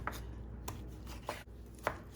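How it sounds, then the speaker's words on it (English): A knife slices through tomatoes, peppers and onion on a cutting board, four or five evenly spaced thuds over a low steady background hum. "I'll slice them up like this before blending"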